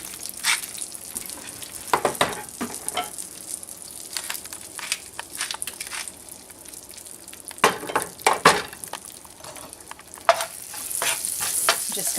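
Bacon slices frying in a pan with a touch of salt and pepper, a continuous crackling sizzle broken by sharp pops and spatters, close and fairly loud with no talking.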